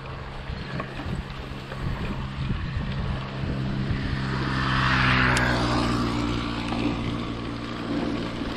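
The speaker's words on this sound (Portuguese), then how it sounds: "O motor é alto, agora aqueceu." A warmed-up boat motor gives a loud, steady engine drone with rushing air and water noise, swelling slightly midway, no voices.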